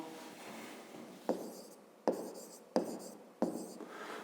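Pen strokes across paper, a soft continuous scratch broken by four sharp taps roughly every 0.7 seconds as marks are made, close and quiet, no talk.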